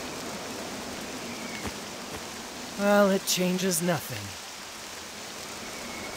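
Steady rain falling in the video game Octopath Traveler 2, a continuous even hiss throughout, with a brief spoken line and a short musical phrase rising over it midway.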